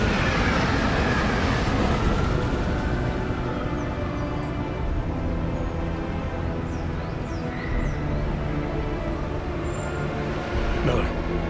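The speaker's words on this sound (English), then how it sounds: "Just getting off the train now." A train in Deus Ex Mankind Divided rolls along its rails with a loud, steady rumble and clatter that fills the whole stretch without letup, while faint voices sit underneath.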